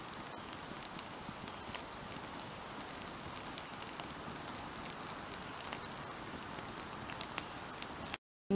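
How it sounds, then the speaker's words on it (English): A campfire on Crown land beside an ATV trail burns with faint, dense crackling and sharp little pops, a quiet steady sizzle throughout before cutting out abruptly. "That fire is hopefully going to get going well."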